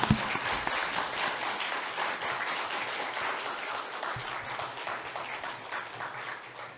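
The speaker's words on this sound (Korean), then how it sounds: "여러분 박수 한번 크게 보내주시죠." Steady applause fills a church humanities lecture hall in Gwangju after a philosophy lecture, dense and moderately loud with no voices, tapering slightly toward the end.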